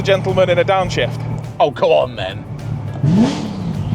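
An American car's engine revs and drops through a downshift on a UK road, rising briefly near the end, while people talk and laugh over it inside the car.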